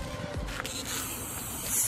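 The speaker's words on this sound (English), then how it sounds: "And with the spray paint, it's easy too." Spray paint can hissing as it coats an outdoor bench during a DIY makeover, a steady broadband spray running throughout at moderate level with no voices.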